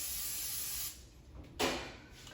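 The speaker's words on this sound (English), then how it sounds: "spray me a little coconut oil on that part of it" A short hiss from an aerosol can spraying coconut oil onto a plate, followed by a brief sharper burst of spray, close up with no talking.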